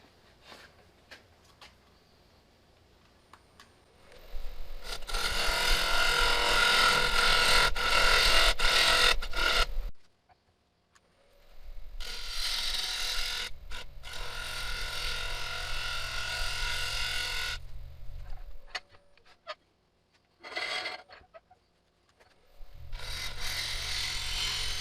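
A wood turning tool cuts the foot of a platter on a lathe, producing loud sustained scraping bursts of several seconds each, broken by quiet pauses as the cut stops and restarts.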